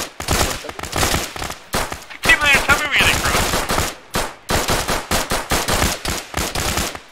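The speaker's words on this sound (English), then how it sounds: "I guess I could shoot my pistol ammo" Rapid pistol gunfire in a tactical video game, a long string of loud, close shots with short pauses between bursts and some voices mixed in.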